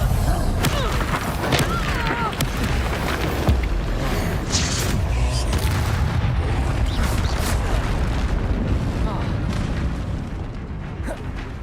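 Confringo fire spells blasting in Hogwarts Legacy, a dense run of booming explosions and bursts layered over continuous loud game rumble and effects, sustained throughout at close range.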